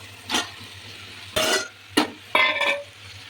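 Potatoes and paneer pieces tumble into a pan of oil-separated masala cooked down for a thin curry, giving a few short scraping, clattering bursts with a light sizzle between them.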